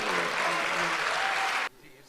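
An audience at an Urdu poetry recitation (mushaira) breaks into sustained, dense applause that fills the space, then cuts off abruptly near the end.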